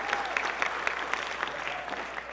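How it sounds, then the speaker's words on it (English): Audience applause at a family anniversary stage performance: steady, dense clapping from a sizeable crowd that fills the whole moment at an even level without letting up. "Who thinks, by applause, Father Fitz was highest"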